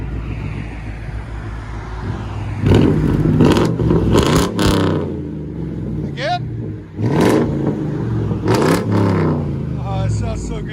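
A Mercury Grand Marquis 4.6L V8 with an aftermarket exhaust revs hard in repeated loud bursts, dropping back to a rumbling idle between blips, with people talking nearby.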